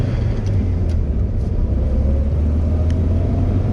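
Toyota AE86 engine running steadily while driving, a continuous low rumble with road noise throughout, fairly loud and close with no speech.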